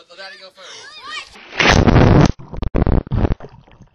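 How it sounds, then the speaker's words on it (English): Someone belly-flops into a shallow backyard pool, a loud close smack and splash burst after a voice, followed by choppy sloshing water. "Shallow pool belly flop time."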